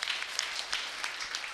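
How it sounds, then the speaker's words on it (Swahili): A short burst of audience applause at a community gathering in Kibra, dense overlapping claps at moderate distance lasting under two seconds. "Mpigeni makofi"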